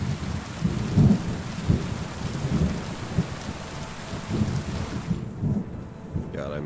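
A thunderstorm in the medieval video game Kingdom Come: Deliverance II: steady rain hisses throughout while deep rolling thunder rumbles repeatedly, loud and enveloping.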